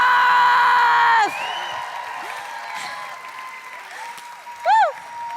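Applause and cheering at the FlipFest 2022 student event: a loud sustained tone gives way to soft crowd clapping, then a short whooping cheer rises near the end.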